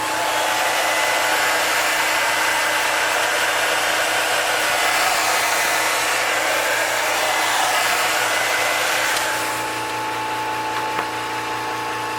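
A hair dryer blows steadily and loudly to heat-set paint on a bluegill fishing lure, a continuous broadband whoosh with a faint motor whine that drops off abruptly near the end.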